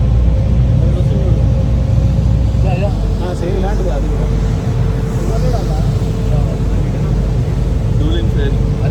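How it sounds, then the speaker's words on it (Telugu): A boat picks up speed on open water en route to Aran Island off Ireland, its engine a steady loud rumble with constant wind and water noise throughout, while people talk over it. "ఇప్పుడే స్పీడ్ అందుకుంది ఈ బోట్"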